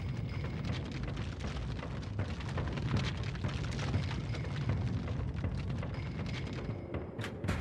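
Dramatized explosion of a repaired aircraft pressure bulkhead on a jet, a dense continuous roar of rushing, rumbling blast noise with crackling debris, loud and sustained throughout.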